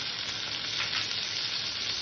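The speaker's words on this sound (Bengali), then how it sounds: "সর্ষেটাকে হালকা করে ভেজে নেব।" Mustard seeds and slit green chillies crackle and hiss in hot oil, giving a short, even, close-up sizzle with no pauses.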